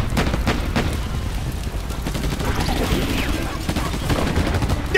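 Heavy gunfire from the video game Battle: Los Angeles comes as rapid bursts and crackling volleys amid booming combat. It is loud and sustained throughout.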